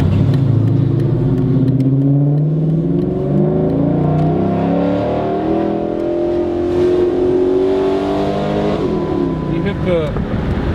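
Cammed Dodge Challenger V8 on an email tune, revving loudly and up close, the engine note rising and falling through several pulls before being over-revved, with people talking over it.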